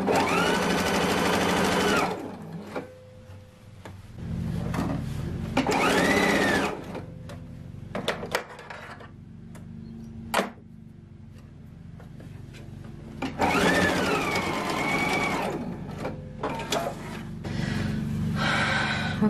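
Sewing a dress seam, the machine runs in short bursts of rapid whirring separated by pauses filled with fabric rustling and small clicks, all heard up close.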